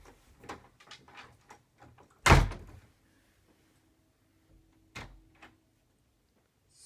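A door in a domestic setting thuds open with one sharp, loud hit, followed later by a smaller knock. Faint room noise fills the quiet stretches between.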